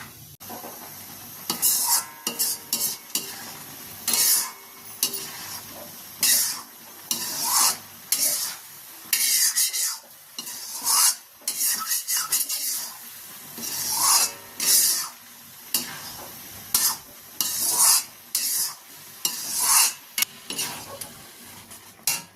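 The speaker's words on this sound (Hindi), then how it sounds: "हमें गाजर को उसे चलाते रहना है।" Grated carrots for creamy gajar halwa are stirred and scraped around a kadhai with a spatula, giving loud, close, rhythmic rasping strokes with faint sizzling and no talk.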